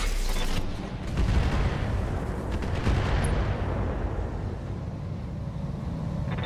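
Heavy weapons fire on a target in the space combat game RogueTech, a loud booming barrage of overlapping blasts with a rumbling low-end wash that fades into a sustained roar.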